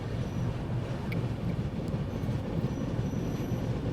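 Swatantrata Senani Express rolls slowly along the rails on approach to Aligarh, a steady low rumble of wheels and carriage noise filling the whole stretch without a break, close and continuous.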